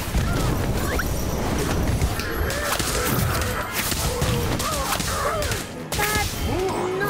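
Casting the Incendio fire spell in Harry Potter Magic Awakened brings crashing whooshes and impact bursts amid busy game effects, chirpy tones and music, loud and continuous.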